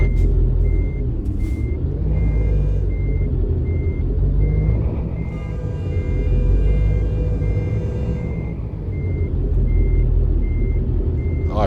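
A truck's reversing alarm beeps in a steady, evenly spaced rhythm inside American Truck Simulator, layered over a constant low diesel rumble while backing toward a trailer.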